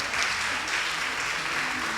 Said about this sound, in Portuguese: Se você puder ficar em pé e aplaudir o Senhor.